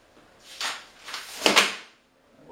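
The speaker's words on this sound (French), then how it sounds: "Première étape, installer les coulisses de tiroir." Metal drawer slides being fitted to a wooden bedside table drawer, giving a few short sliding and clattering scrapes at close range, two stronger bursts separated by a brief pause, then quiet.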